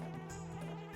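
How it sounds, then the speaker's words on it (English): Bees buzz in Banjo-Kazooie as a steady, droning hum, close and unbroken for about a second with no voices. "Nothing but the buzzing of bees for a very long time."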